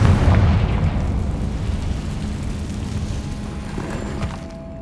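A blasting spell explosion in the video game Hogwarts Legacy, with a loud booming burst at the start that rolls into a long, gradually fading rumble with some debris crackle.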